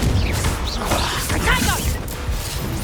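Confringo fiery blast spell in Hogwarts Legacy during a duel: crashing, whooshing magical impacts in quick succession amid other spell effects, loud and close, with voices over them.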